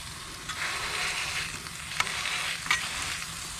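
Sausage and vegetables sizzle steadily on a Blackstone griddle at a campsite, a close continuous crackling hiss broken by a few sharp scrapes and taps of a spatula.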